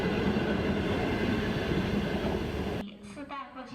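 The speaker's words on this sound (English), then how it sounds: "Chinese sleeper trains are a popular and cheap way to get around the country" A Chinese sleeper train rolls along the rails with a loud, steady broadband rumble that cuts off abruptly near the end, leaving quieter interior sounds with faint voices.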